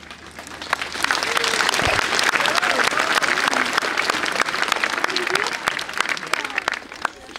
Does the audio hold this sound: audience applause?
yes